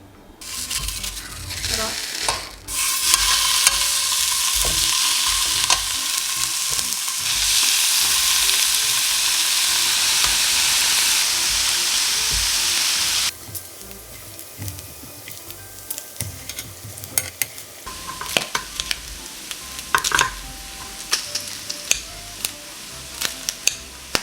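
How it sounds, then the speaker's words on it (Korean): Pork belly and button mushrooms sizzle loudly on a home grill, a dense crackling frying hiss that swells for several seconds and then settles into quieter spitting and popping. "양송이랑 오겹살 자이그레 구워 먹을게요"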